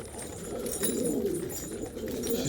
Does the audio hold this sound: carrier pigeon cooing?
yes